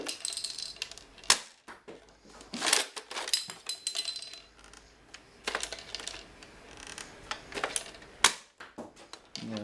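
An X-Shot Thundershot toy blaster being handled and fired, giving a string of sharp plastic clicks and snaps with uneven gaps, some louder cracks among lighter rattles, close by with no voices.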